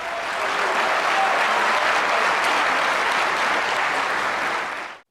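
Loud, dense applause from a large lecture audience for Islamic speaker Zakir Naik, steady and sustained for about five seconds before cutting off abruptly, with no talking.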